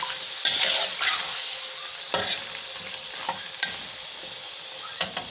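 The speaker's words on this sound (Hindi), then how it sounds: "अब इसको फ्राई करेंगे" About 1.5 kg of chicken fries in hot oil in a karahi for charsi karahi, hissing with a steady close sizzle while a utensil stirs and scrapes in brief bursts; no one speaks.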